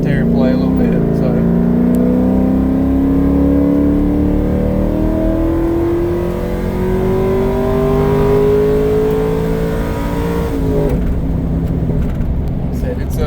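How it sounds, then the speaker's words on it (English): A 2003 Chevrolet Silverado with a 4.8 V8 and performance cam revs hard through manually shifted gears, a loud rising engine drone that climbs, drops at each shift and climbs again, close and continuous. "that's me manually shifting it, kind of abusing it a little bit there"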